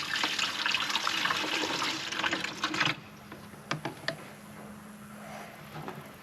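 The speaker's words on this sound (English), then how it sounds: "put some cool water in the reservoir as well." Cool water poured into the coolant reservoir of a Fox Body car, a steady splashing liquid pour for about three seconds that stops, followed by a few faint clicks and handling sounds.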